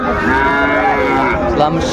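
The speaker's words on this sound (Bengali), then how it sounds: "এই পাশে একটা ষাঁড় বাচ্চা" A bull calf at a cattle market in Dinajpur moos loudly and close by, one long drawn-out bellow filling the whole moment with a rough, strained tone.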